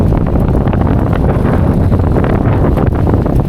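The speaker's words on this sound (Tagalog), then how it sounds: "Kusog kay hangin dire." Strong gusts roar across the microphone while cycling over the CCLEX bridge in Cebu, a steady loud buffeting that fills the whole clip with no speech.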